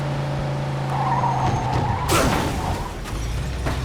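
Car drifting with a long screeching tire skid in Mafia II: Definitive Edition, engine droning underneath, the squeal swelling sharply midway then easing into a rumbling roll.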